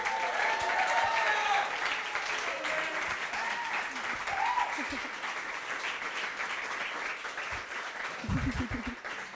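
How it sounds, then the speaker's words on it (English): A live audience at an in-person event for SDRs applauds steadily as a speaker is welcomed on stage, a dense, sustained wash of clapping with some crowd noise mixed in. "give us a loud round of applause for Olivia Green"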